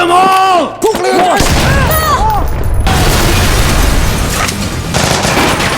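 Gunfire from the action film Golden Job, with dense loud shots, booms and clattering mechanical sounds filling the whole stretch over a dramatic score, with no clear voices.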